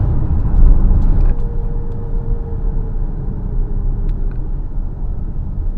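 2025 Skywell BE11 Long Range electric car driving through town, heard from inside as a steady low road rumble and tyre noise with a faint whine, no talk.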